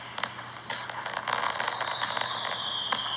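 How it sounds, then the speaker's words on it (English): AtmosFX fireworks decoration effect playing back, with scattered crackling bursts and pops over a steady hiss, a faint high whistling tone rising in the background, moderately loud and continuous with no talk. "the fireworks should start playing immediately"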